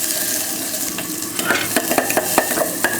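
Mustard seeds and chopped shallots frying in hot oil for rasam, a dense close sizzle broken by sharp popping crackles that grow more frequent partway through.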